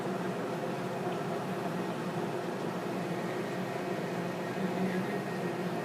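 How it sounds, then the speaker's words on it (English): A dishwasher runs in the background, a steady broadband wash-and-hum that holds at an even level throughout with no talking on top. "If you hear a lot of noise in the back, it's the dishwasher going."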